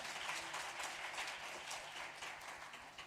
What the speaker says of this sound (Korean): 다시 한번 뜨거운 박수로 격려하겠습니다